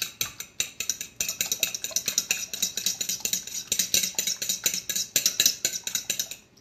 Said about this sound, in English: I'm going to take a fork and just mix this all up